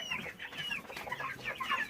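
Chickens cluck continuously in a busy, moderately faint jumble of overlapping calls.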